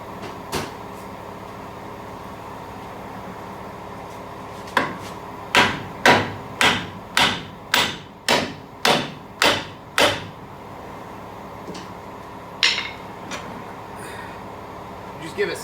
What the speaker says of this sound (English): Just give it some taps on the steering knuckle,